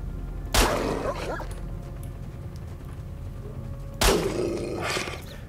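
Two bursts of dogs barking at close range in S.T.A.L.K.E.R. Shadow of Chernobyl, a game set in Ukraine, each a short flurry about three seconds apart over a steady low ambient rumble.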